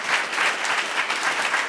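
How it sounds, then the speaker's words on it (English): An audience at a televised political forum breaks into steady, even applause, a dense wash of clapping heard alone throughout. "Let's give her a round of applause."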